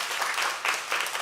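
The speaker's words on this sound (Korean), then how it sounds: "박수 한번 해주십시다." Church congregation at a youth summer retreat prayer meeting clapping together, a steady dense wash of applause with slight swells, heard on its own without talk.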